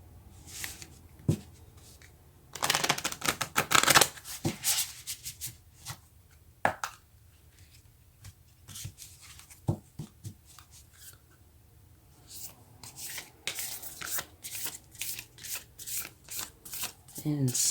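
Tarot cards are shuffled in bursts of brisk riffling and soft rustling, loudest near the start and again toward the end, with quiet handling and brief pauses in between.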